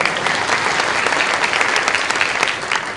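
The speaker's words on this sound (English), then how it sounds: "Clap if you think they're cute." Loud, dense applause from a large conference audience, a continuous roar of many hands clapping that holds steady throughout.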